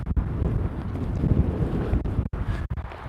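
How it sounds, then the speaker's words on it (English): Strong outdoor wind buffets a microphone, producing a continuous low rumbling roar with brief dropouts as gusts shift, no speech heard. "I'm walking backwards for a second so I can block the wind. It's gotten pretty windy here."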